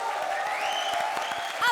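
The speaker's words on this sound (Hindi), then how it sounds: "तो इसी दादी के लिए जोरदार तालियां।" Applause from a studio audience on a comedy show, broad steady clapping under music or a held tone, brief and continuous.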